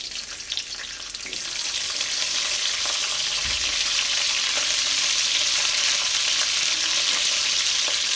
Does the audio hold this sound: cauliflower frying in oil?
yes